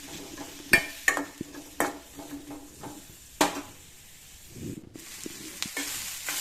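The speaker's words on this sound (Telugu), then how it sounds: "ఉల్లిపాయలు వేసుకొని ఇందులో కొద్దిగా ఆయిల్ వేసుకొని మంచి కలర్ వచ్చేదాకా అయితే ఫ్రై చేయాలి." Onions fry in a little oil in a pan for a Telangana-style fish curry, a soft, steady sizzle broken by several sharp scrapes and taps of a spoon stirring against the pan.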